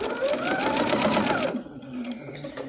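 A sewing machine stitches quilt pieces in a fast, even run of close, buzzing stitches that stops about halfway, leaving quieter handling noise.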